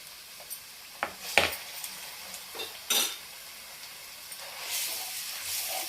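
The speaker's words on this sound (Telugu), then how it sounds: "బాగా వేగాలన్నమాట ఈ అల్లం వెల్లిపాయ పేస్ట్" Ginger garlic paste frying in a pan for fish curry, a quiet hiss with several sharp utensil clinks and scrapes early on, then a gentle sizzle swelling toward the end.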